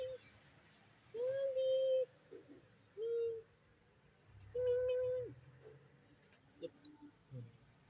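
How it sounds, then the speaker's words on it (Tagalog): Cats meow outdoors on a rainy day, with three drawn-out, steady-pitched calls spaced a couple of seconds apart, followed by fainter short cries over a low background rumble. "yung mga pusa nito"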